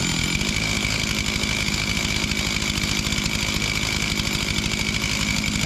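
A rebuilt chainsaw engine running steadily during a heat-cycle break-in, a buzzy, rapidly pulsing two-stroke drone that stays even and close throughout, with no talking.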